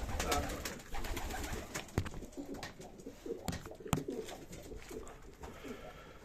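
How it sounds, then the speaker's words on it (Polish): A soft, low coo from a male blue pigeon sounds close by amid rustling and handling noises, faint and intermittent against a muffled indoor background. "Jest pokazany gołąbek niebieski, Właśnie to jest ten samczyk."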